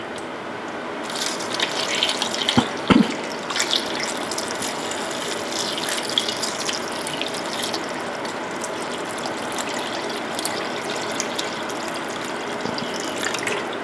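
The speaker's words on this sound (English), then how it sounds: "Then we're just going to add enough water to cover the pork." Water pours steadily into a pot of pork for sisig with a continuous splashing rush, close by, after a couple of brief clanks near the start.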